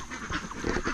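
Ducks (itik) being herded on a farm in the Philippines, a flock quacking in several overlapping bursts throughout, fairly close and moderately loud.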